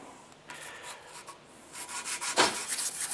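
Sanding a titanium utility blade handle by hand, with a soft, steady abrasive rubbing that starts faint and grows louder and scratchier toward the end, close by and without speech.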